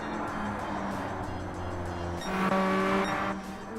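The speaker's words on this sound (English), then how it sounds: "you can all hear the cars okay?" Race cars in Gran Turismo 7 drone faintly in the background, a low engine whine that swells briefly as one passes with a slight tire squeal, with no talk over it.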